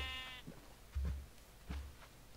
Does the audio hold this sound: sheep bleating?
yes